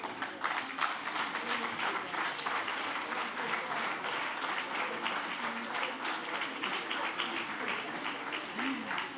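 An audience of conference attendees applauds European French-speaking guests, sustained dense clapping from a large crowd filling the room steadily for several seconds, with faint voices mixed in.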